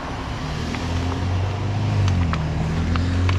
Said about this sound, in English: not the right time to be driving up the street